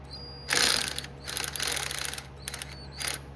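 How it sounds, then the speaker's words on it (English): Ratchet cracking loose a 14 mm bolt on a Nissan D21 pickup, a few short bursts of rapid clicking, close and crisp with pauses between pulls. "now I'm gonna loosen up the 14 just to crack that loose."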